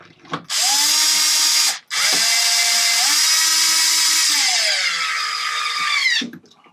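A drill drives long bolts into an RC car chassis on a BigRock, Vendetta or Mega Infraction. Two loud, close whirring runs come in turn, the second longer, with the motor pitch rising and dipping as the bolt seats.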